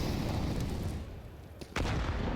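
A grenade goes off in Counter-Strike on the Inferno map, a single sharp blast cutting through a steady wash of game noise and crowd ambience near the end.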